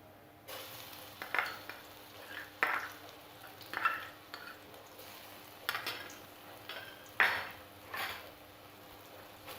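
Garlic fries softly in oil with a faint sizzle, punctuated by repeated scrapes and light clinks of a spoon stirring against the pan.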